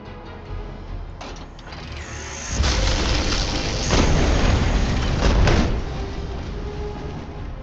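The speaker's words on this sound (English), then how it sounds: "Using the Mega Cannon." Mega Cannon firing in the Aether & Iron video game, a loud booming blast that swells into a sustained roaring rumble for several seconds before easing back to a lower hum.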